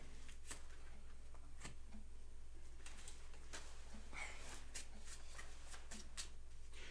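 Cards from a Power Rangers Heroes of the Grid board game deck being shuffled, giving an irregular run of crisp, close snaps and riffles over a steady low background hum, with no talking.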